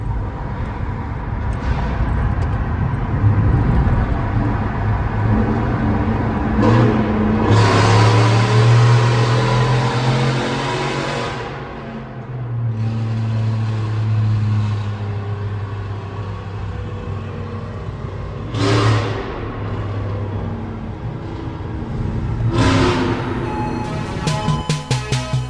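A Kawasaki KLX110 pit bike with long tube headers revs hard, its loud, close engine droning and rising in repeated bursts over a steady idle rumble, with no one speaking.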